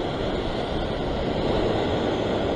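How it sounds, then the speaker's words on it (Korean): Ocean waves break against sea cliff rocks on the coast near Sydney, Australia, a loud, continuous wash of surf with no voices. "파도가 저쪽까지, 내가 좋아하는 곳까지 저쪽까지 갈 수 있게 파도를 기다립니다"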